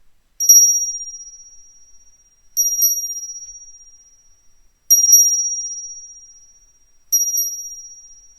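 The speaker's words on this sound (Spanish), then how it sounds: "escucha el sonido de esta campana" A small bell rings four times at slow, even intervals, each a bright clear ding with a doubled strike that rings out and fades into silence.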